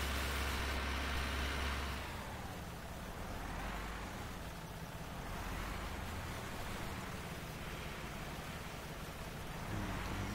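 A tractor pulls away towing a loaded trailer on Rathlin Island, its engine a loud, steady, close low rumble that swells at the start and then drones on continuously.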